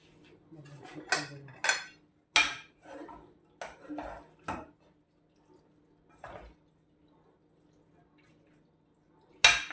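Tagliatelle is mixed into a crème fraîche sauce in a pan, giving a series of close, sharp clinks and scrapes of utensil on pan in irregular bursts, separated by quiet gaps with a soft background hum.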